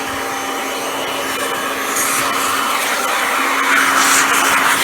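A Kirby G6 2001 Limited Edition upright vacuum cleaner runs with a steady, loud motor whine and airy rush, rising slightly in intensity toward the end, with no voices.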